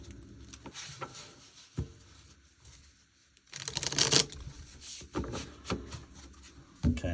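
Tarot cards are shuffled in a few brisk riffling bursts, close by, with quiet pauses and handling noises between them.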